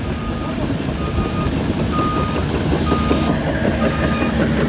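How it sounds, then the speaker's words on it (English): Backup alarm of an excavator at a Hurricane Helene flood-damage site in North Carolina, 2024: faint, repeated electronic beeps at regular intervals, half-buried under a loud, constant broadband roar. "Got an excavator down there."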